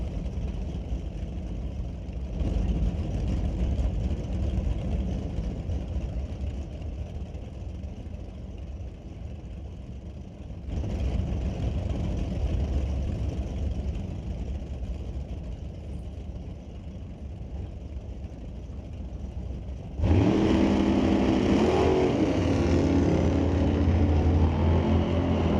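At NHRA Canadian Sportsnationals divisional qualifying, a 1956 Chevrolet 210 and a Roadster Camaro idle with a steady, distant rumble, then launch near the end in a sudden, much louder roar.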